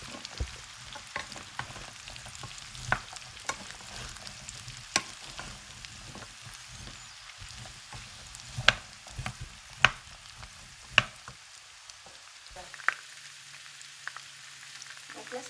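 Turnips and carrots frying in a pan give a soft, continuous sizzle, broken by scattered clicks and scrapes of stirring, fairly quiet and close, with no talking.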